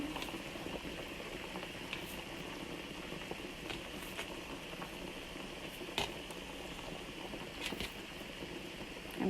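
White sauce bubbles steadily in a pot, a continuous soft simmering hiss and gurgle with occasional small pops, faint and even throughout with no talking.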